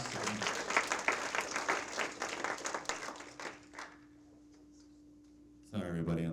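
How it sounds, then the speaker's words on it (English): Applause for Element 46 at a Demo Day event, a crowd clapping loudly for about four seconds before fading out, then a brief burst of voices near the end. "Let's give another big round of applause for Element 46 and everyone involved."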